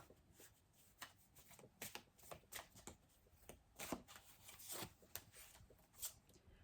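Tarot cards are being shuffled by hand, giving quiet, close riffling and rubbing sounds in irregular bursts with no talk.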